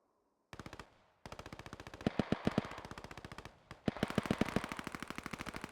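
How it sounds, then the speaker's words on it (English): A Tommy gun fires in a video game in a series of rapid automatic bursts, each a tight train of sharp, loud reports, separated by brief pauses. No one speaks over the shooting. "The Tommy gun."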